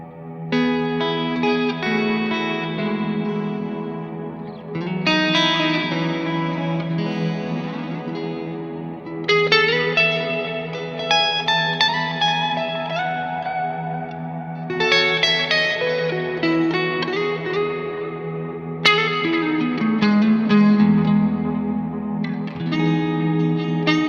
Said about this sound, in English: it sounds beautiful and it's great for ambient guitar playing